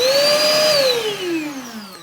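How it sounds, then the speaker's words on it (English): A Craftsman 2.5 gallon shop vac runs as a blower with a loud, steady whine that slowly drops in pitch as the motor winds down. "now you can actually use it as a blower"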